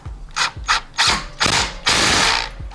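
A ratchet with a 10 mm socket tightens a bolt during a Forge Motorsports intercooler install on a Veloster N/i30N, giving several short bursts of close, crisp clicking and a longer final run.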